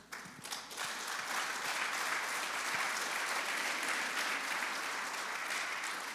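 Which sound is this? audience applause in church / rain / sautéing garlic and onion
audience applause in church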